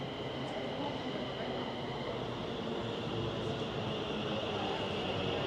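A train rolls toward a station with a steady low rumble and hum, heard from on board at a constant moderate level, with faint voices in the background.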